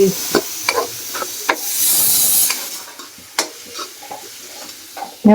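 Onions and capsicum sizzle in a tempering for pav bhaji, a steady frying hiss broken by repeated sharp scraping stirs of a spoon in the pan.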